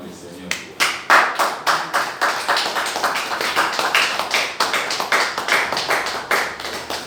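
A church congregation clapping together to acclaim the Lord, with dense rhythmic applause building into a steady beat, loud and close, while voices rise among the claps.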